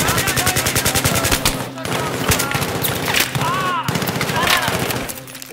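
Rapid automatic gunfire from the player's weapon in Battlefield 3, loud close bursts of shots in quick rhythmic strings with short pauses between volleys, with a voice talking at times.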